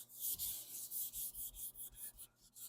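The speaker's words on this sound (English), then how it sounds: "just sanded through the clear into the paint right here and there" Rhythmic back-and-forth sanding strokes on the clear coat and paint of a restored 1976 classic car, faint and close, about a dozen even passes.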